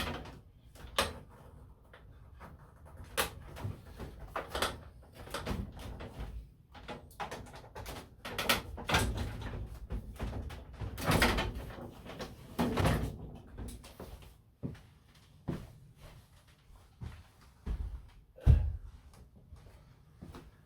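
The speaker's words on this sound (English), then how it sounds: "push in on each side in turn, lifting the lid up" Lid of a Fisher & Paykel WL4227P1 top-load washer being pushed in at the sides and lifted off: a series of irregular plastic knocks, clunks and scrapes, close by, with quiet gaps between handling noises.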